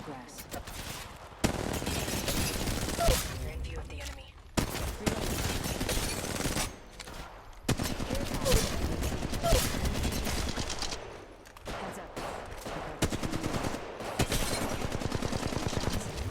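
Gunfire in the Apex Legends Mobile video game on the Kings Canyon map: dense bursts of automatic fire and rapid volleys repeat across the whole stretch, broken by short pauses, with a player's voice mixed in.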